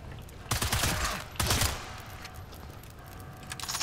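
Gunfire in Sniper Elite 5: two loud bursts of rapid shots about a second apart, each a dense crackling volley, followed by quieter scattered shots and rumble in the background.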